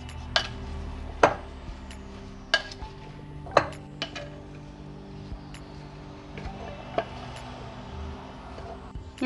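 Potato samosa filling is mixed by hand in a bowl, giving soft mushy stirring under a series of sharp clinks and knocks against the dish, spaced irregularly and close, with faint background hum.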